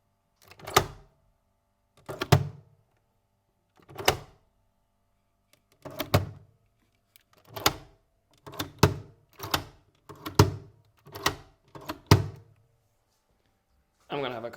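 A Nespresso machine's lever is opened and closed repeatedly, about a dozen sharp plastic clunks and thunks at uneven intervals, close up with quiet gaps between.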